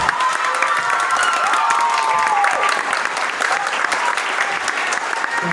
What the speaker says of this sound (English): Let's give them one more round of applause.